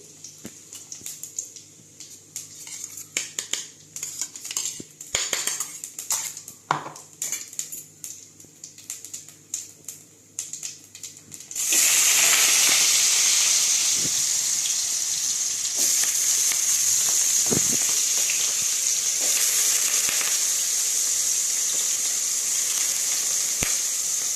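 Cumin seeds drop into hot ghee for sago khichdi and burst into a loud, steady sizzle that continues to the end, after a stretch of quieter kitchen clatter and small utensil taps.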